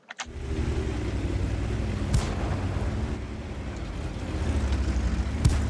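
Tank battle in World of Tanks with a sharp gunshot near the start followed by a loud, sustained low engine rumble and further faint impacts, with no talking.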